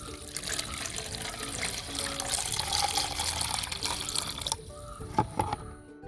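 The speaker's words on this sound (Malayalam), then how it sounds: "നമ്മൾ ചേർത്ത് വെച്ചിട്ടുള്ള തൈര് മിശ്രിതം നമ്മുടെ ഈ ബോട്ടിലേക്ക് നമുക്ക് ഒഴിച്ചു കൊടുക്കാം" A curd mixture, made as a plant spray, is poured into a plastic water bottle with a steady, close liquid gurgle and splash that breaks into a few drips and knocks near the end.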